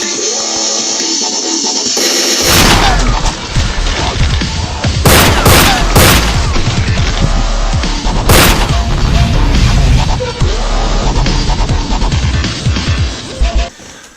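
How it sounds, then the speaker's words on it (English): Sound-effect gunfire for a 10mm handgun in an edited film soundtrack: a dense run of loud, sharp shots and booming impacts, several standing out as hard cracks, over a continuous rumbling background. "since we're using the same gun, it's about a 10mm gun, we used a 10mm sound effect"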